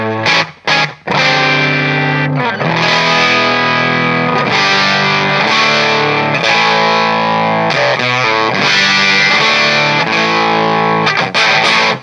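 An electric guitar plays through a 1985 Hughes & Kettner Crunch Master guitar preamp/amp. The tone is heavily distorted and sustained, with loud chords and riffs ringing continuously up close and no talking.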